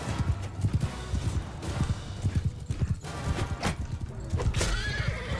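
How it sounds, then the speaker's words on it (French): A horse whinnies loudly amid rapid clip-clopping hooves in the video game Mount & Blade II: Bannerlord, the galloping rhythm steady and close throughout. "Oula, j'ai tapé le cheval."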